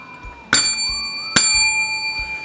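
Two crisp bicycle-style bell rings used as a subscribe-reminder sound effect, each a sharp metallic ding with a ringing tail, spaced about a second apart, loud and close.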